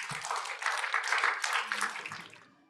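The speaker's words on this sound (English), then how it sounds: "I would like to invite all the participants to applaud for our panelists to thank for their contributions." A conference workshop audience claps for the panelists at the end of a session, a dense burst of applause lasting a couple of seconds before tapering off.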